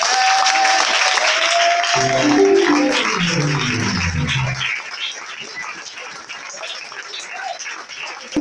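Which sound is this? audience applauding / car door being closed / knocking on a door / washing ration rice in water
audience applauding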